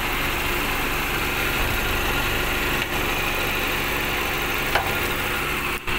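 Engine of a 1985 Honda Accord saloon 1600 in antique condition idling, a close, steady continuous hum and vibration with no talk.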